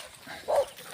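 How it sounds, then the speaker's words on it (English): A dog outside an old house gives a single short bark at moderate distance, a brief sharp burst against quiet outdoor background. "We can't enter, there's dog here."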